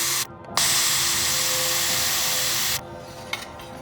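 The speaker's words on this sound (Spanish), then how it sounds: "Volvemos a pulir las soldaduras" Rotary polishing of solder joints on fine refrigerator tubing for a homemade fire-powered refrigerator, a close, steady high-pitched grinding whir lasting a couple of seconds, with brief pauses before and after.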